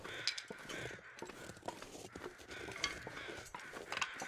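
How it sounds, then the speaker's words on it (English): Crows caw in The Long Dark video game, scattered calls over a busy, rustling outdoor background at moderate distance, with no voices. "I'm hearing crows, but I think that's from the same guy that we just saw."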